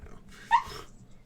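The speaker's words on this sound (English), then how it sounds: "She was scratching her ear, and I think she scratched too hard." A female dog gives a single sharp yelp after scratching her ear too hard, a brief close cry that rises and fades within a second against a quiet background.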